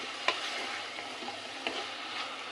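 Chicken pieces frying in oil in a pan are turned with a utensil, giving a steady close sizzle with a few soft scraping knocks, and no talking.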